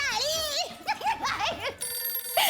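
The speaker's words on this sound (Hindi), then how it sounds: "फोन आया।" A telephone rings with a bright electronic ringtone warbling in repeated bursts, close and clear, with a voice briefly overlapping near the end of the ringing.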